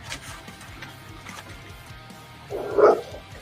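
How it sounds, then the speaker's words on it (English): A dog gives one short bark near the end over a steady low background hum, at moderate distance and fairly loud. "is that your dog? Yeah, he barks at everybody"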